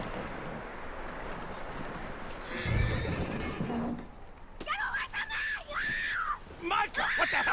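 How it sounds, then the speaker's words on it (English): A skittish horse in the video game Red Dead Redemption 2 whinnies and squeals repeatedly after a jolt of hoof clatter, loud and close, the neighs rising and falling in several shrill bursts over a rough ambient bed. "That looks like a decent horse."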